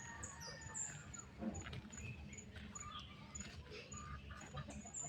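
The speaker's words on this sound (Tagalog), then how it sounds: "May mga manok dito yung gumagala." Free-roaming chickens cluck and squawk in the open outdoors during a rural visit, soft and somewhat distant bursts over a low ambient rumble and bird chatter.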